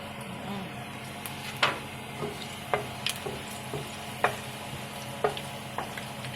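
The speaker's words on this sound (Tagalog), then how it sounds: "Mayroon na siyang oil sa aking paglulutuan, kaya ilagay na lang yung bawang para madaling maluto." Chopped garlic sizzles and fries in hot oil in a pan, a steady soft crackle with occasional sharper stirring clicks, close and quiet.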